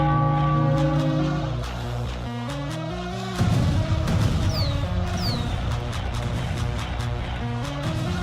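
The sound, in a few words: bell rung for Phillies victory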